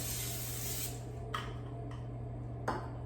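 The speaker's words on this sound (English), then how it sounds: "spray the bottom with a non-stick cooking spray" A brief hiss of non-stick cooking spray is released onto the bottom of an air fryer basket, followed by a couple of light clicks and taps.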